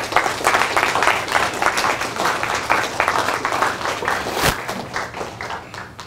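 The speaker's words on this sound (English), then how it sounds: "let's give the veterans a round of applause" Students giving veterans a round of applause at Punahou School, close, energetic clapping from a crowd with sharp individual claps standing out, gradually easing in loudness.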